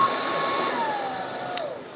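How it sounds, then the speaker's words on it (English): A handheld hair dryer blowing steadily on its low, warm setting, a continuous airy whoosh with a faint whining tone, close and alone. "I'm going to blow dry on low."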